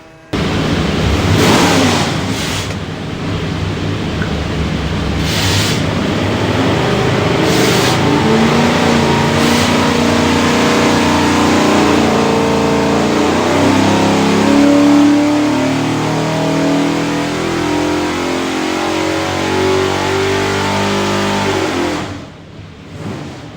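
A carbureted 427ci Ford V8 in a Superformance Cobra makes a dyno pull, roaring loud and close as it climbs steadily through the revs over about twenty seconds before dropping off abruptly, no talking.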